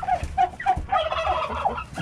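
A turkey hen on a ranch gobbles in a rapid series of warbling calls, close and fairly loud, with light background rustling.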